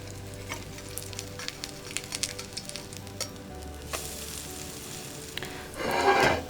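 Dandelion fritters sizzle steadily in a hot frying pan, with a light crackling patter close by and no voices, then a louder, hissing burst near the end.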